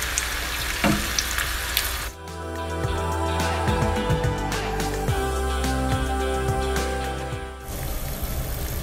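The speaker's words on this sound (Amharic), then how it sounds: "ፓስታ ውሃ ትንሽ አደርጋለሁ ማለት ነው።" Pasta cooking water is poured into a hot pan of garlic pasta, a sizzling hiss followed by several seconds of steady pouring and bubbling, close and clear with no talking.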